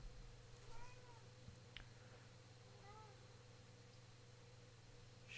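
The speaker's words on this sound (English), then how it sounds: "Kitty cat." A pet cat meows twice indoors, two short, faint calls about two seconds apart over a steady low electrical hum, with a faint knock between them.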